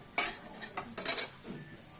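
Fried prawns lifted out of a pan with a metal utensil: a few quick scraping clinks of metal on metal, close and fairly crisp, spread over a couple of seconds.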